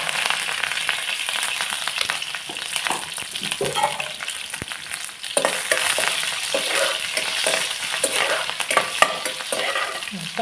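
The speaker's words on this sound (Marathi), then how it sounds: "मोहरी टाकूया जिरा मिरची आणि कढीपत्ता" Mustard seeds, cumin, chillies and curry leaves sizzling in hot oil, a dense crackling fry with popping and stirring clatter throughout, close and fairly loud, no talking.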